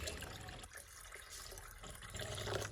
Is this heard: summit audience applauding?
no